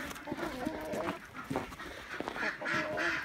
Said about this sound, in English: Can hear the ducks are excited to be getting out.